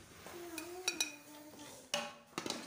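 Metal utensils clink against a dish while chana chicken aloo biryani is served out, giving a few sharp ringing taps spread across a quiet kitchen moment.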